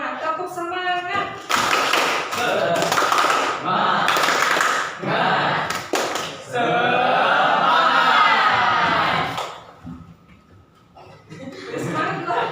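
A school class doing a rhythmic spirited clapping cheer, loud bursts of patterned claps mixed with chanting voices and laughter, pausing briefly near the end before the clapping picks up again.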